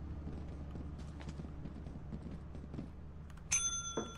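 Bell rung inside the video game Lethal Company: a bright, ringing metallic strike near the end that decays over about half a second, standing above a steady low ambient rumble.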